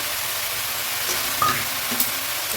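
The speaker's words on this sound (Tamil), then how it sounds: "போட்டு நல்லா ஃப்ரை பண்ணிக்கணும் தேங்காய்" Grated coconut frying in a pan with wilted greens, a soft steady sizzle close by with one or two faint stirring clicks.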